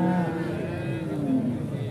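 A cow lets out a long, drawn-out moo at the Pasar Wage cattle market in Pati, close and fairly loud against a busy background hum.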